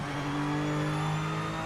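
A BMW's engine note from a motor racing video game holds a steady, even drone at a constant pitch, with no voices over it.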